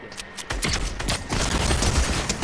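Rapid bursts of Fortnite gunfire crackle close and loud, overlapping into a dense fusillade with occasional mechanical clicks.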